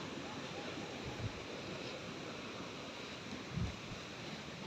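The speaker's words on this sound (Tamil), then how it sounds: "தண்ணி, அந்த அருவிலேருந்து போகிற தண்ணி." Steady, broadband rushing of water from a waterfall at Thirumoorthy Hills, continuous and fairly distant, with no voices.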